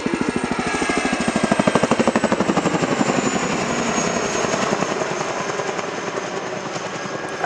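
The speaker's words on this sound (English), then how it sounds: "beautiful look at the contra-rotating blade design that makes Chinook unique on the battlefield" A Chinook helicopter with contra-rotating rotors flies a display at the RIAT 2018 airshow at Fairford, its blades beating out a loud, rapid, steady chop over a broad engine roar that persists throughout.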